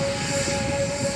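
A trawler boat motors along a river with a steady droning engine hum, a continuous loud mechanical tone with no break over the short span.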